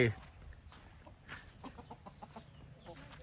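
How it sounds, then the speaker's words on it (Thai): Chickens cluck near a small hut in a rubber plantation, short clucks scattered over a faint outdoor background with some quiet human sound. "โอ้ไก่"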